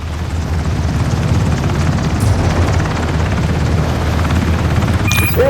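A helicopter lifts off in the video game Ring of Elysium with a loud, continuous rotor and engine roar that holds steady throughout, with no speech over it.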